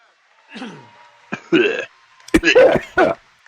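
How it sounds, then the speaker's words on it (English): A string of short, sharp coughs and throat noises in uneven bursts, close and loud, with no speech. "Don't mind the cough."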